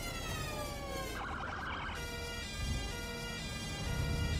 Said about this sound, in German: In England wirklich so eine Sirene, die so wechselt?